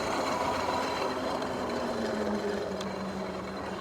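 A Kingbull Literider electric bike motor running with a steady whirring hum over road and wind noise, continuous and fairly close, with no talking.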